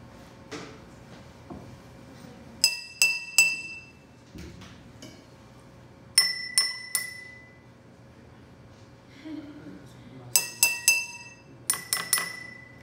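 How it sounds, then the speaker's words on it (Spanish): Glass laboratory beakers of different sizes, small and large, struck with a glass rod give bright ringing clinks in four clustered bursts of several taps each, each tap decaying briefly, fairly close and with no talk over them. "vasos de precipitados de diferentes tamaños, unos pequeños, otros más grandes, y les dieron además una varilla de vidrio"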